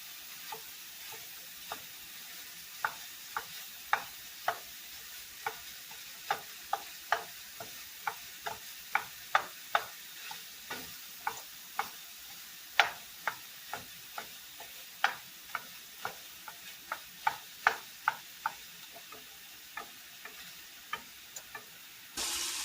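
Sausage frying in a pan over medium to medium-high heat, a steady sizzle broken by a long run of sharp pops and spits that crackle irregularly throughout, with no one talking.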